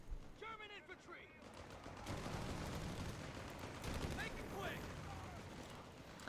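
Dense, sustained machine-gun fire and battle noise fill a Company of Heroes 3 tournament match, with an MG42 among the guns, heard under overlapping commentary voices and scattered distant bursts.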